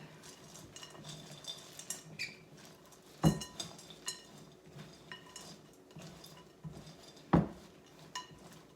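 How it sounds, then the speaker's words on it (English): A spatula stirring homemade trail mix in a bowl, with nuts, chocolate and dry bits rattling and scraping and two sharp knocks against the bowl's side, close and alone with no talking. "I'm just going to get me a spatula and just mix everything up."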